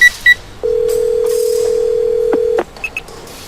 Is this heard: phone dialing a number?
yes